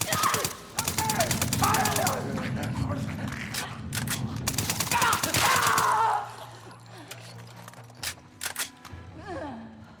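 Rapid volleys of The Last of Us Part II game gunfire rattle in repeated bursts, mixed with harsh effects and a dog-like yelp, then sparser shots toward the end.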